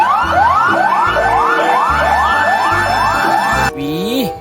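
A toy fire truck sounds a loud, close electronic siren that whoops up in rapid repeated sweeps. It then shifts briefly to a different warbling tone before ending, with no talking.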